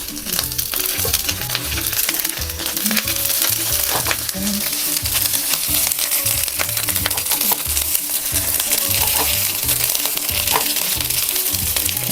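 Korean cabbage pancake batter sizzles steadily in a preheated pan over medium heat, a loud, continuous fry crackle with soft rhythmic thumps of pressing or spatula work underneath.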